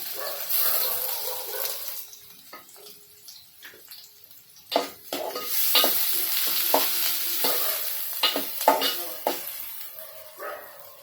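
Sliced onion and curry leaves hit hot oil in a pan for Maharashtrian bharli vangi, a sudden loud spitting sizzle that continues with bursts of crackle and stirring scrapes, faint talk in the background.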